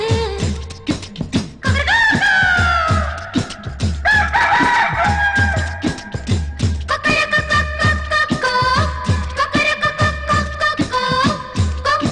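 A rooster crows and chickens cluck over a steady, rhythmic Tamil village song with a thumping beat.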